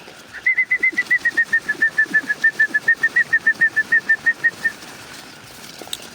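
Two-day-old quail chicks in a brooder on a quail farm in Chandpur, on a winter night, give a steady run of about twenty high, evenly spaced peeps over several seconds, close and fairly loud, then fall quiet.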